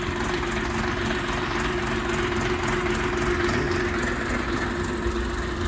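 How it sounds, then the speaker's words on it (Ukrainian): Xingtai XT-244 mini tractor engine runs at a steady idle, a continuous close, loud mechanical drone with a low throbbing hum and no break across the clip. "Ось стоїть, перевіряє, тракторець працює, зараз буде відгрузка."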